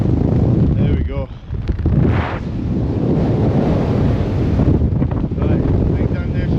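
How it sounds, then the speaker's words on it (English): Strong wind roars and buffets the microphone on a March mountain summit at Stob Coire Sgriodain and Chno Dearg in the Scottish Highlands, loud and continuous, with brief snatches of a voice half-buried under the gusts. "can't complain too much for strong wind"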